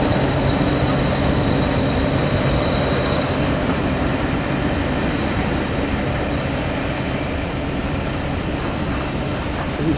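Hastings Unit 1001, a diesel-electric multiple unit, pulls into Kent House station with a steady, loud rumble of engine and wheels on rail that continues unbroken from start to finish.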